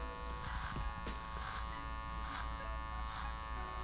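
Hair clippers cutting hair over a comb during a barber's mullet-to-skin-fade job, a steady close electric buzz with repeated brief bursts of snipping as the blade passes through hair, no talking.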